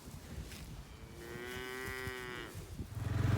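Cows in a field let out a single long, drawn-out moo close by, with light outdoor background noise around it and a low rumble rising near the end.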